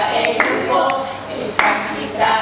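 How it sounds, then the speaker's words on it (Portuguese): Applause from a church congregation during a service, a steady wash of clapping with a few sharper claps standing out, close and fairly loud throughout. "Um aplauso para os amém."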